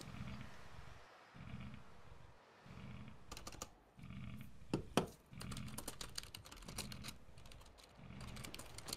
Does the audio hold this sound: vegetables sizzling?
no